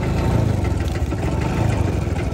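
A motorcycle with a broken clutch runs with a steady, fairly loud engine idle, its low throbbing rumble pulsing slightly and continuing without talk.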